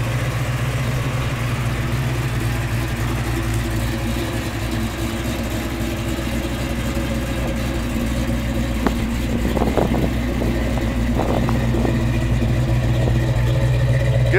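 A 1972 Chevrolet Chevelle SS convertible with a 502 V8, its engine idling with a deep, steady rumble throughout, given a few brief blips of throttle near the end, with a voice speaking faintly underneath.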